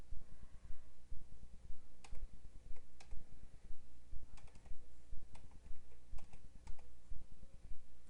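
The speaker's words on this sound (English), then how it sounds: "all you do is just type ping into your command prompt" Fingers tap out a ping command on a computer keyboard, a steady run of quiet, close keystrokes with a few sharper key presses, no voices.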